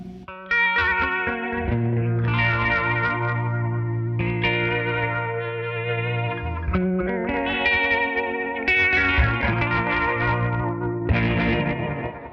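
An electric guitar plays chords and melodic phrases through a Hologram Electronics Chroma Console effects unit set to compression and drive, a driven, compressed tone, sustained notes overlapping with a slight chorus-like shimmer.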